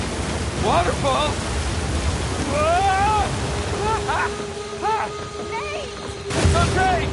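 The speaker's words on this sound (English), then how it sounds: "Waterfall! Waterfall!" Rushing water in the video game Uncharted 4, a broad, steady roar of a waterfall heard under shouted voices and brief exclamations, loud throughout with a surge near the end.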